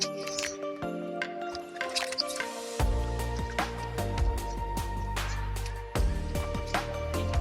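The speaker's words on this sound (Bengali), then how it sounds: "লেবুগুলোকে প্রথমে পরিষ্কার জলে ধুয়ে নেব।" Lemons being washed by hand in a bowl of clean water, with splashes, drips and squishing sounds in irregular bursts, close and clear without talk.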